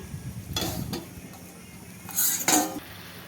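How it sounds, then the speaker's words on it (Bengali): Metal clatters twice as a lid comes off a pot of cooking lemon pepper chicken on a gas stove, two short clinking bursts with a soft sizzle underneath. "10 মিনিট হয়ে গেছে, এবার ঢাকনাটা খুলে দেখবো"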